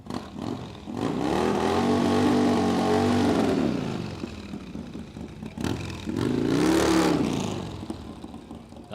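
At a dragway test and tune session, a Holden WH Statesman drag car with a supercharged LS engine revs hard in two long, loud roaring bursts with rising engine pitch, separated by a quieter idling lull.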